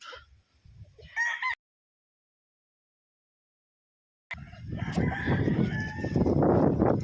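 A Raptor Sweater gamefowl rooster crows at close range in two bursts, a short call, then a pause of near silence, followed by a long, loud crow with clucking and noisy farmyard background.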